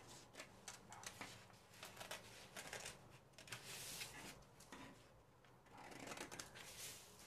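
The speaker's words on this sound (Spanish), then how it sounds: "voy a recortar." Scissors cutting out a paper pattern piece for the front of denim-style shorts, heard as a steady run of close, crisp snips and paper rustles with no talking.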